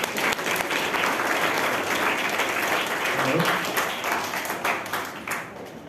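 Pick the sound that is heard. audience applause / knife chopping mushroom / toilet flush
audience applause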